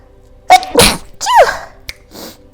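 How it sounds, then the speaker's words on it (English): A single sharp sneeze bursts out close up, preceded by a quick inhale, followed by brief faint sounds. "Sneeze."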